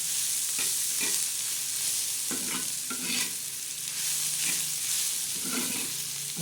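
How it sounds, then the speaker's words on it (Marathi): Wild leafy greens (pathri) sautéing in a pan give a loud, steady sizzle, broken by repeated scraping stirs roughly once a second, close by with no talk. "आता मैत्रिणींना आपण असं परतून घ्यायची ती भाजी"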